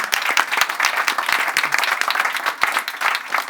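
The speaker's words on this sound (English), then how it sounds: "A little clap for that." Audience at a tech town hall event giving applause, a dense, loud burst of many hands clapping in a crowded indoor room, steady for a few seconds, with no talk over it.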